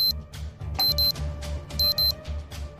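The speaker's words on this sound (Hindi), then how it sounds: "अलार्म बंद रखा करना" A bedside alarm clock rings in repeated bursts of bright electronic beeps, loud and close, with a steady low hum running underneath.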